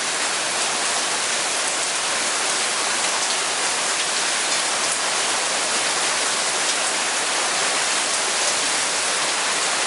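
A steady rain shower pours down continuously outdoors near a tree, a dense, even hiss of drops with no pauses and no voices.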